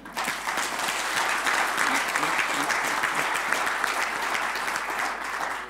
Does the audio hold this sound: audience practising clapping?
yes